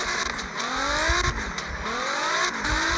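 Game car engine in CarX Drift Racing 3, a C6 on a drift tune, revving hard with repeated rising pitch sweeps and brief drops as gears shift, loud and continuous with faint tire noise.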